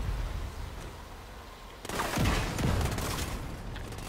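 A grenade blast in a Division 2 raid shooter game hits suddenly, a loud booming burst followed by sustained rumbling gunfire and crackling noise that carries on to the end.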